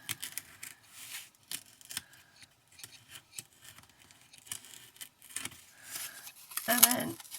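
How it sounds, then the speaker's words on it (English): Small pre-cut pieces are poked and punched out of a coffee cup shaker kit sheet, giving soft clicks, snaps and papery rubs with a louder crackle near the end. "as you poke everything out, it all comes out"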